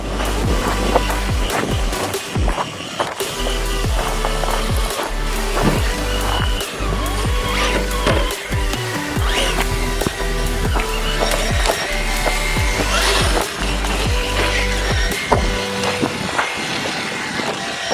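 A Vanquish VS4-10 Fordyce RC crawler grinds along the Catfish Trail, its small motor whining under continuous crunching and clattering of tires over rock and dirt, close and busy with no talk.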